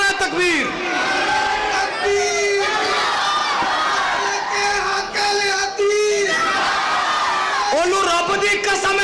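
A large crowd at a religious gathering roars the Nara-e-Takbir slogan in loud, repeated call-and-response shouts that swell and fade in waves, with a leading voice calling out between them.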